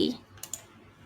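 Two sharp left-button clicks of a computer mouse, close and fairly soft, land in quick succession in a quiet room while graphics software is in use.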